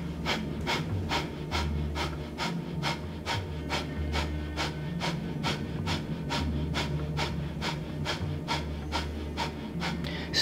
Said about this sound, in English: let's take our thumbs up into ego buster position and breath of fire